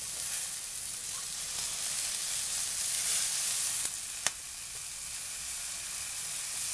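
Okra fries steadily in a hot pan, a continuous bright crackling hiss with a couple of sharp clicks partway through and no talking.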